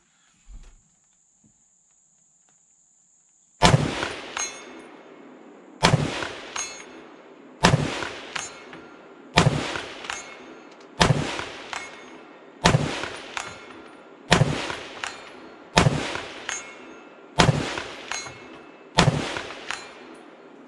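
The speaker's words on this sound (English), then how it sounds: "let's take some shots at 200 yards" Palmetto State Armory PA-10 .308 Winchester rifle fired at steel targets 200 yards out, nine loud sharp shots at a steady pace of roughly two seconds apart, each followed by a brief echoing tail, after a quiet outdoor lead-in.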